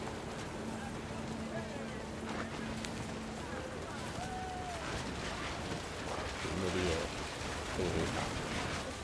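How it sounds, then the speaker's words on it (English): Heavy rain pours steadily in What Remains of Edith Finch, a soft constant wash beneath a narrator speaking throughout, with faint musical tones drifting in. "The rain came down in buckets then"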